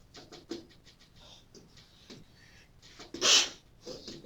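A single sharp sneeze bursts out near the end, preceded by quiet shuffling and faint indistinct noises in a calm room.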